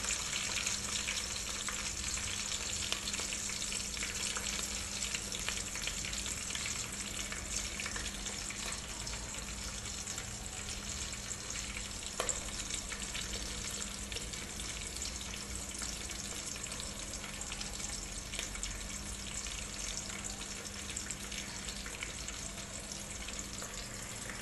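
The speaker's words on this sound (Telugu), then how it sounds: "తగిన సామాన్లన్నీ నూనెలో వేసుకొని బాగా వేయించుకోవాలి." Spices frying in oil for tamarind wheat rava upma, a steady, faint sizzle holding evenly throughout with no talking.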